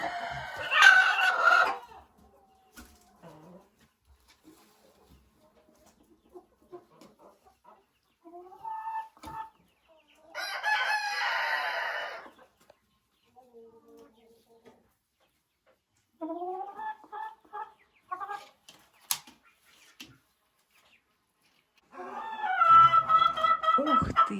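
Hens in a chicken coop cluck and cackle in scattered bursts separated by quiet gaps, close and fairly loud, with one drawn-out rooster-like crow among them.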